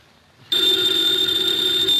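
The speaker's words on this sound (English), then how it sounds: "the ringing of that phone bell brings you mystery, adventure" An old-fashioned telephone bell starts suddenly and rings steadily, loud and close, with a bright metallic tone.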